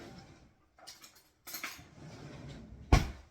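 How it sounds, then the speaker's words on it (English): A whisk is pulled out from among metal utensils and mixing bowls in a home kitchen: scattered soft clinks and rattles, ending with one sharp, loud clatter of metal against a bowl. "Let me get my whisk out."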